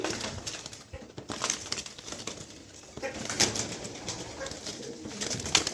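Pigeons coo repeatedly at close range, with low throaty calls and occasional wing flaps and rustling as top-quality birds for sale are handled.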